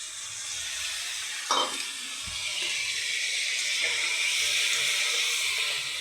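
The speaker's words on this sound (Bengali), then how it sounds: "দেখো এবার আমি এই জলটা দিয়ে দিই।" Water splashes into a hot pan of spiced potol curry, bursting into a loud steady sizzle that hisses on after a short pour and a clink of utensil.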